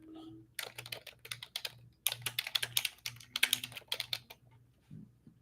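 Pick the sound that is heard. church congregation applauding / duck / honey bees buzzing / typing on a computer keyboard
typing on a computer keyboard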